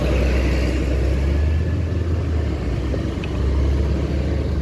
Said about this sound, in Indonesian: ini ada juga bus pariwisata yang baru datang